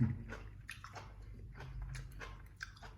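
Wet, crunchy chewing of bok choy close to the mic, a run of bites and mashing sounds in uneven rhythm with a low hum underneath.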